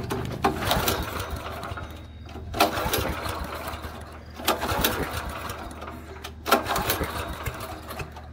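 A Honda GX340 engine on a cheap go-kart runs steadily close by, its low droning hum swelling into a throttle surge about every two seconds.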